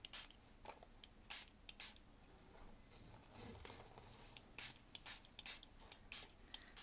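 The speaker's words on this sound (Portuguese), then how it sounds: "e aplicar o spray" Trucolors metallic water-based spray paint is sprayed onto a ribbon for scrapbooking: faint, short hissing bursts come in irregular spurts at close range against a quiet background, with no voice.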